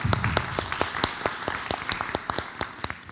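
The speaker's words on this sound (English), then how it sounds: "If you would, give Ms. Pereza a round of applause." Scattered applause at a school board of education meeting for a board member, a small group clapping unevenly and moderately loud for about three seconds.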